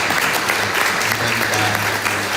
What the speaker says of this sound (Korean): 우리 박수로 한번 크게 칭찬하겠습니다